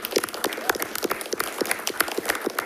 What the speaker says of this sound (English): Just one more round of applause for all their hard work,